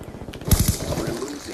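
Gunfire in Call of Duty: Black Ops heard as a quick burst of several close shots, followed by a lingering rumbling decay.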